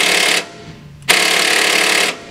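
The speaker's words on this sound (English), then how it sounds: "using the impact, I'm going to unscrew that big bolt right there" An air impact wrench loosens a big bolt on a car's brake booster, firing in two loud, buzzing rattling bursts separated by a short pause, close and harsh.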